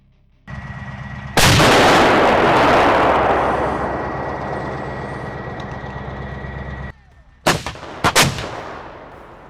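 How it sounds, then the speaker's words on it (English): Artillery strikes hit Russian armored vehicles, including a BMP, in war footage: a massive close blast with a long rumbling decay, followed by several sharper cracking explosions near the end. "Footage released on social media showed a Russian BMP being blown up as a result of artillery strikes"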